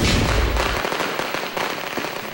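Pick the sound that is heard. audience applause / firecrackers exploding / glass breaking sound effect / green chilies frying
firecrackers exploding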